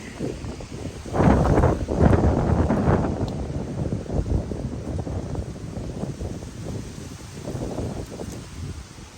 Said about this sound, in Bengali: কত সুন্দর বাতাস